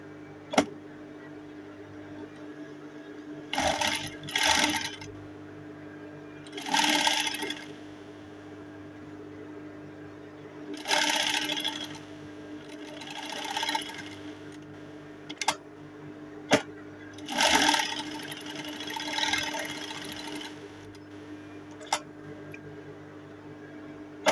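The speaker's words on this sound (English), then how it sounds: "the next thing I'll do is just to simply top stitch around this" Short bursts from a sewing machine top stitching around an Ankara ball dress, several separate runs of a few seconds each, with sharp clicks between them over a low steady hum.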